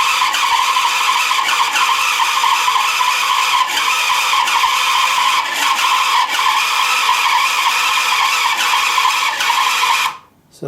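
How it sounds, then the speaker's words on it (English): The small electric motors of a vintage Structo toy cargo crane whir in a steady, close, high-pitched drone, then cut off abruptly near the end. "So that's how the crane moves, and then you can lower the hook."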